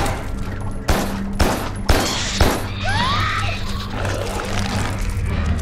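Guns fire in the video game Carrion as several sharp, loud shots crack out about once per second over a steady game backdrop, followed by smashing and squelching creature noises.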